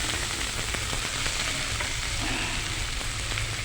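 Leafy greens frying in a hot pan with five-spice seeds and ginger, a loud, steady sizzle filling the whole stretch with faint stirring scrapes and no talking.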